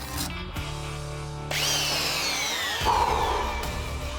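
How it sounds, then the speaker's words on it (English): A belt sander grinds steadily against wood, its loud, harsh roar rising in pitch partway through and continuing without pause. "Never has the mighty roar of a belt sander been so welcome."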